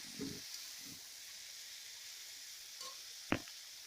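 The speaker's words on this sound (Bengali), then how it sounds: "দিয়ে আমি 1 মিনিট পালং শাকটা ভেজে নেব।" Spinach frying in a pan for a Bengali village-style curry gives a soft, steady sizzling hiss, with a few light knocks of stirring against the pan.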